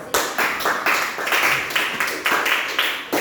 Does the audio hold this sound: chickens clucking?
no